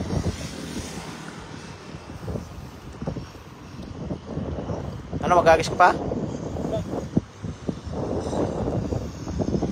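Fishing boat motor running steadily out on the water, with wind buffeting the microphone and people talking over the engine drone throughout.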